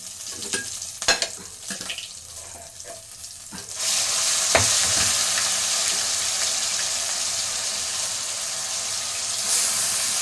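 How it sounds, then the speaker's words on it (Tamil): Fennel seeds splutter in hot oil with sparse crackles, then ground masala hits the pan and a loud, steady sizzle takes over and holds to the end. "இப்போ சோம்பு பொரிஞ்சிச்சு, இந்த மசாலாவை இதில் ஊற்றிக்கலாம்."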